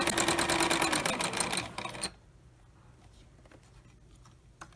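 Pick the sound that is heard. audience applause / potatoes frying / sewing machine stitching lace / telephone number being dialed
sewing machine stitching lace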